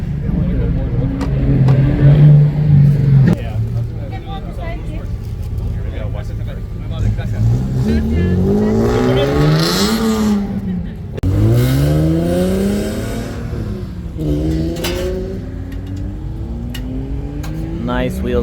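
Several lowrider cars cruise past at a casual car meet, engines swelling and fading as each passes nearby, with rising and falling engine tones over steady crowd chatter.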